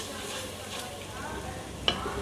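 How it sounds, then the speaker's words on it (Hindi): Masala of garlic, onion and ginger-garlic paste frying in a pan for mutton paya, with a soft, steady sizzle and quiet stirring throughout and one brief clink of a utensil near the end. "मसाला इसी तरह मैंने भूनना है और इसमें फिर मैंने पायों को भूनना है अच्छे से।"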